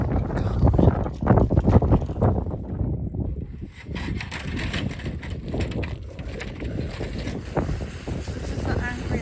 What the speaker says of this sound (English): It's very nice, but it is a bit breezy here.